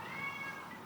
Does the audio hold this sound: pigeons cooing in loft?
no